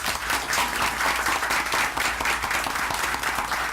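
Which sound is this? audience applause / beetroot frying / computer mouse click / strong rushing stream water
audience applause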